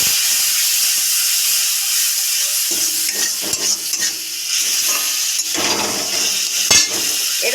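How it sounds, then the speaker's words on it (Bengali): A splash of water hits chili, turmeric and spices frying in a pan for Maggi noodles, setting off a loud, steady steaming hiss with occasional scrapes and clinks from stirring. "অল্প একটু জল দিয়ে দেবো।"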